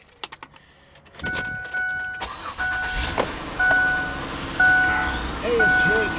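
A Ford Freestyle with over 300,000 miles is cranked and started with a jingle of keys, then idles close by while repeated warning chimes beep at even intervals and someone talks over it.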